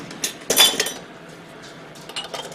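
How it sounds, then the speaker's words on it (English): A metal canning lid set onto the rim of a glass jar of home-canned pork and beans, giving a few light metallic clinks and taps close by, with no talk. "On goes the lid."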